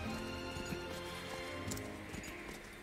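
Horse hooves clip-clop at a steady trot in the video game Octopath Traveler 2, a rhythmic run of soft thuds under a continuous musical and ambient bed, fairly quiet throughout.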